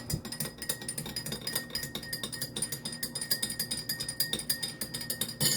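A spoon stirs a lemon drink in a glass with steady, rapid clinking against the sides, close and continuous for several seconds, with no voices.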